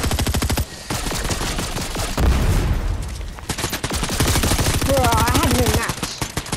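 Pistol fire in the Fortnite video game sounds as rapid, loud, evenly spaced shots in long bursts, with a heavier booming stretch partway through.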